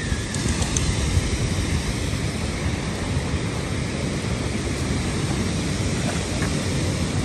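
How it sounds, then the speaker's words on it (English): Hooker Falls, a waterfall off the Blue Ridge Parkway near Asheville, North Carolina, gives off a constant loud roar of rushing water, a steady broadband wash without a break. "This is Hooker Falls."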